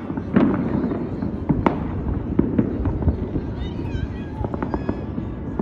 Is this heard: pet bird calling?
no